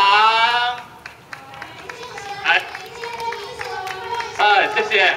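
A crowd at a smoke-free temple plaque unveiling ceremony breaks into a burst of clapping. A voice speaks first, then the applause runs for a few seconds at moderate level before more talk rises at the end.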